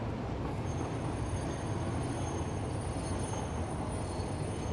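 A train runs in the video game Satisfactory, with a loud, steady rumble of wheels and carriages that continues without pause and without any talk.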